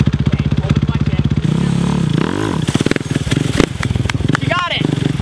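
Outlaw kart engine revving as the throttle opens, a loud rapid pulsing buzz that rises and steadies, with a voice talking over it close by.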